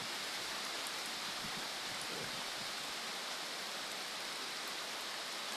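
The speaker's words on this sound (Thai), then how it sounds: "ฝนตก" Steady rain falls on a rural home, a constant dense hiss of drops with no voices, moderately quiet and continuous throughout.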